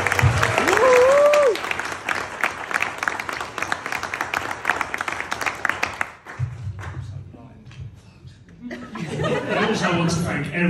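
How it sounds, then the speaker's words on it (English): Wedding guests at a reception give the chefs a loud, dense round of applause with a few whoops, which fades after about six seconds as a voice resumes speaking. "I think they all deserve a round of applause."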